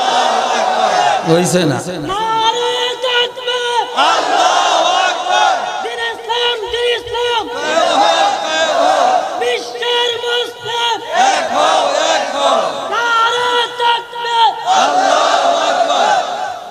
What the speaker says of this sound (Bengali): এখন আমরা যারা আছি এমন জোরে আওয়াজ করব যাতে ঘুমাইয়াও শান্তি না পায়।